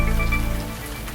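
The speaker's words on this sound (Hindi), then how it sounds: "ओह, बारिश शुरू हो गई।" Rain falls in a Chacha Chaudhary cartoon as a short, steady patter on surfaces, fairly loud with a faint rhythmic pulse underneath.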